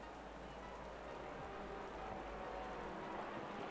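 Torrential rain drums steadily in a racing video game at Kyalami, a dense, unbroken wash of heavy downpour that stays loud and even throughout.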